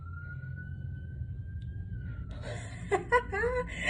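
A steady, high police car siren tone holds for about two seconds and then cuts off, followed by a few short chirping sounds, near a house fire in West Valley City.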